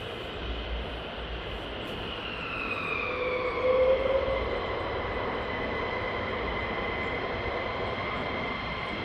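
A military jet passes over RAF Lakenheath, a steady distant engine whine that slowly shifts pitch and swells briefly midway before holding level, alone without voices.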